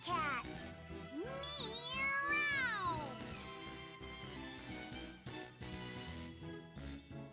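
A character's voice imitates a nearby cat in the video game Tales of Berseria, a drawn-out rising and falling meow over soft background music, with game sounds continuing after the call.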